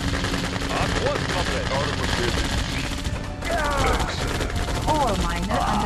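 Rapid gunfire rattles continuously in Red Alert 2: Yuri's Revenge as units attack an ore miner, loud bursts layered with game voice lines and other battle effects throughout.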